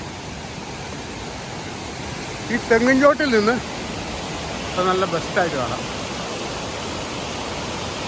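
The Meenmutty waterfall and river at Aithala near Ranni, Pathanamthitta, rush with a constant broadband roar throughout. A person speaks briefly over the water.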